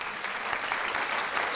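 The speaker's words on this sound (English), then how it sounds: "Then came the roar of applause." A festival audience at a horror film screening breaks into dense, steady applause that continues unbroken and fairly loud throughout.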